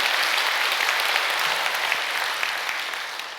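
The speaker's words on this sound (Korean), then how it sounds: "감사의 박수를 한번 크게 올려주시면 고맙겠습니다" Steady applause from a large crowd at a peace blessing ceremony in a church, a dense wash of many hands clapping that fades slightly toward the end.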